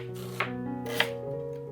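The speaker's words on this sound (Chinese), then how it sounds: "洋葱对半切开，然后切成丝" A knife cuts a halved onion into strips on a cutting board, with two crisp, separate chops that ring clearly over soft background music and no talking.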